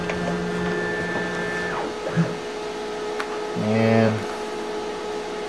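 A tool changer machine whirs as its motors drive it to the tool change position, steady hum with stepped tonal whines that shift pitch and stop, a short motor burst near the end, and a brief spoken word.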